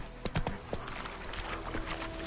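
Roach, the horse from The Witcher game, galloping with a steady clip-clop of hooves over a constant background rumble, moderately loud and close, with no voices.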